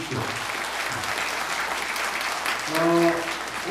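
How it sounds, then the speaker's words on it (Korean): A crowd at a provincial party members' rally in Jeonju applauds steadily, a dense even wash of clapping, with a brief voice cutting in near the end. "서로에게 큰 박수 한번 쳐주십시오."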